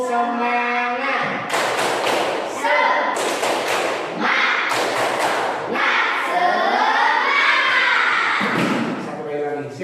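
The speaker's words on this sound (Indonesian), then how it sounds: "1, 2, 3. Tepuk semangat." Group doing a tepuk semangat spirit clap, with rhythmic bursts of thudding claps in a patterned sequence, mixed with a leader's voice and chanting between the claps.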